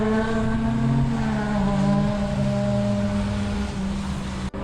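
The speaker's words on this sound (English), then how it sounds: "Absolutely loved the sound of this chaser." A Toyota Chaser engine drones steadily at a distance on a race track in Japan, its pitch sliding gradually lower as it passes, with a brief knock at the very end.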